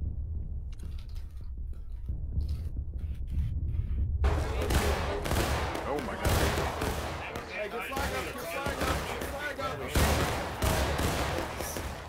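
Independent musket fire in the video game War of Rights, scattered shots popping near and far in an uneven rhythm, under a low rumble and voices talking.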